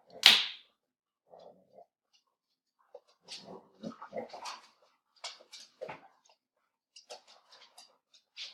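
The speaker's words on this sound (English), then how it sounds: "I'm sorry, please excuse my dog." A dog in a home setting gives one sharp bark near the start, followed by scattered snuffling, shuffling and faint vocal noises at close range, with quiet gaps between them.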